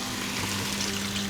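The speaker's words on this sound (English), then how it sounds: "After the corn, we are going to add some warm water to cover it." Warm water pours into a pot of corn in a short, steady gushing splash with a faint watery gurgle, close by and without voices.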